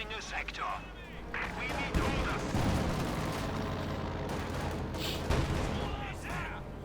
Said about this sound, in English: got one field gun playing away against the frontal armor, 80mm of sloped armor